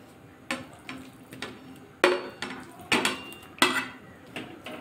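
A spoon stirs chhana cottage cheese into thickened boiled milk in a pan for kalakand sweets, giving about ten rhythmic scrapes and clinks, close and fairly quiet, with no talk.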